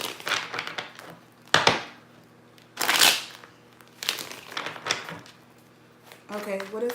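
Tarot cards shuffled by hand in several bursts of crisp riffling and shuffling at close range, separated by short pauses.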